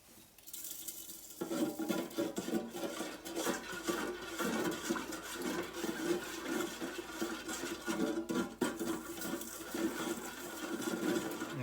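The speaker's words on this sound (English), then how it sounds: "it says to add this slowly to the pot, so while mixing it in" Granular lye poured slowly into water in a pot while being stirred for homemade soap, giving a close, continuous patter and scraping swirl with occasional clinks against the pot.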